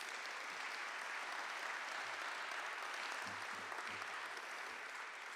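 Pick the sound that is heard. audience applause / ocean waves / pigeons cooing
audience applause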